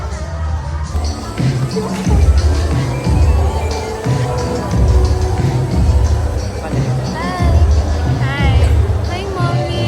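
A crowd of students at school shouts and chatters in a loud, dense babble, with nearby voices and shuffling movement mixed through the din.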